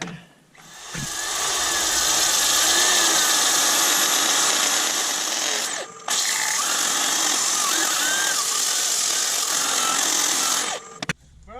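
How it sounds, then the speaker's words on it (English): Black & Decker corded electric drill running steadily in a woodturning workshop while an oak and resin platter is made, loud and close, with one brief dip in the whine midway before it stops near the end. "I'm moving over to my trusted electric powered Black & Decker."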